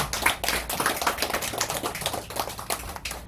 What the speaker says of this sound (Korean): 우리 목사님 나올 때 박수 한번 해주세요